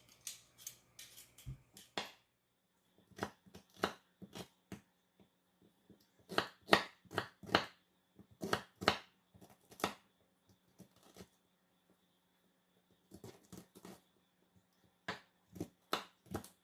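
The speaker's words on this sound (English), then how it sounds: "now I've cut the beetroot" Knife slicing through peeled beetroot, a series of short crisp cuts in uneven bursts separated by brief pauses, close and fairly quiet, with no talking.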